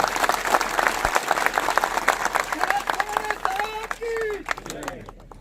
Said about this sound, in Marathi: जोरदार एकदा टाळ्या बाजू आपण शरद